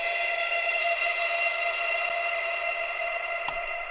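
A sustained, bright tonal wash rings out and slowly fades, like a long reverberant tail, with a couple of faint clicks near the end.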